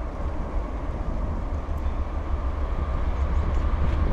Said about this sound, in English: We got an eastbound. Sounds like an EMD on the lead.